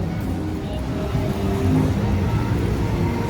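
Traffic noise on a downtown Chicago street along Monroe, a steady low rumble of passing cars and engines filling the whole stretch, moderately loud and continuous with no clear talk.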